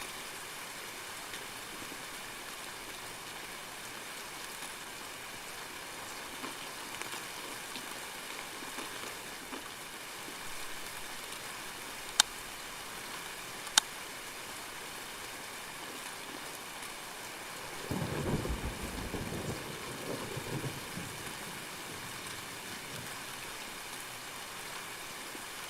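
Steady rain hissing across an open daytime area near bridges in Escape from Tarkov, a constant broadband wash with two sharp clicks midway and a brief louder splashing burst toward the end.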